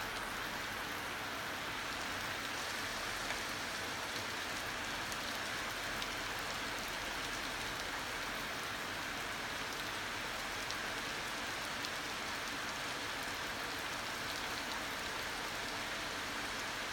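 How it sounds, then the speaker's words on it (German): Steady heavy rain falls throughout a severe thunderstorm in Halberstadt, a dense, even hiss of drops on surfaces with no thunder or voices standing out. "Nee, das regnet sich ab."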